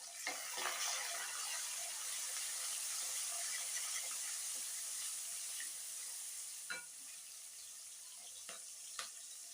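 Rice rava upma ingredients fry in a pan with a steady, close sizzle that holds throughout, broken by a few soft stirring scrapes and taps.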